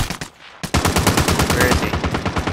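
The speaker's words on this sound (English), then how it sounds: "Receiving hostile fire." Rapid automatic gunfire in a Warzone video game rattles out in a brief burst, pauses for a moment, then resumes as a loud, sustained stream of shots.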